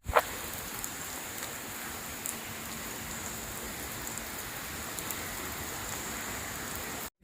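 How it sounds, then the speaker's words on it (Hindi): Heavy rain pours in Lahore as a dense, constant hiss that stays even and loud throughout, with no talking. "साथ ही फुल से बारिश शुरू हो गया।"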